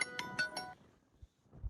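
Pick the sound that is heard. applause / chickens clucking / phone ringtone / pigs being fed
phone ringtone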